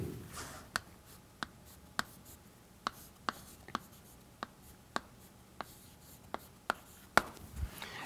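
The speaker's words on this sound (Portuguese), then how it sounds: "Vou escrever isso aqui." Someone writes on a board during an arithmetic lecture: a steady series of about a dozen sharp, close taps at roughly half-second intervals, with no voices.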